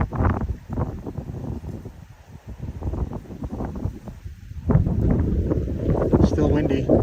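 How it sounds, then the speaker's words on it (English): Gusty wind blows outdoors beside a river, a steady loud rush buffeting the microphone throughout and surging stronger in the second half, with a voice talking over it. "Still windy."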